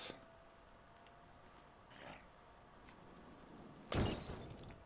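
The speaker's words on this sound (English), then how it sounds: "I don't know why they make a glass shattering sound like that" In the survival game The Forest, a sudden glass shattering effect bursts in near the end, bright and crashing, after a quiet stretch with a faint muffled thud midway.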